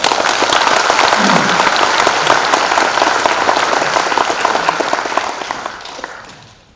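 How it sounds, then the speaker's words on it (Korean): Sustained applause from municipal staff at a Gwangju city monthly assembly, dense and steady clapping from a sizable indoor crowd that gradually fades out toward the end. "자축하는 의미에서 박수 한번 칠까요?"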